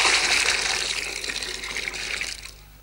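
Water gushing hard from a fire hose, a loud, steady hissing spray that holds for over two seconds and then fades out at the end.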